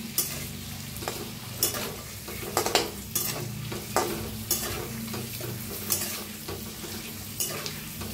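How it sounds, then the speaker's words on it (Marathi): Eggs coated in turmeric, red chilli and salt fry in a pan, giving a continuous sizzle broken by regular spoon scrapes and stirring knocks, close and clear with no talking. "हलवून घेऊया अंड्याला।"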